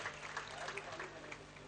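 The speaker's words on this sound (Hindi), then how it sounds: "इस्तकबाल तालियों से होना चाहिए" Soft, steady applause from an audience welcoming guests at an All India Mushaira and Kavi Sammelan in Mahona, continuous throughout the short stretch with voices faintly mixed in.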